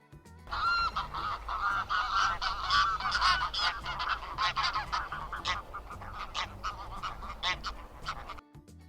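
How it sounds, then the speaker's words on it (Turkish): A flock of geese honks continuously, many overlapping loud calls close by. "Kazlar böyle ses çıkartır."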